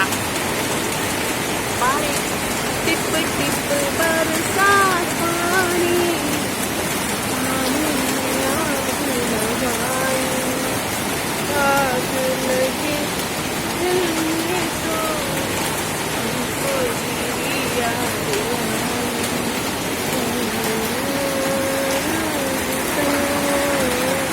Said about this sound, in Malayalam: വീഡിയോ ആണ് വെറുതെ മഴ കാണിക്കാനും